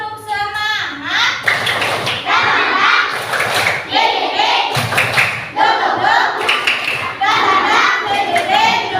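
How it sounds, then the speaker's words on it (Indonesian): Schoolchildren in a combined-grade Indonesian classroom perform the tepuk semangat clapping chant, with loud bursts of rhythmic clapping and chanting young voices, close and energetic. "Kita tepuk semangat terlebih dahulu ya."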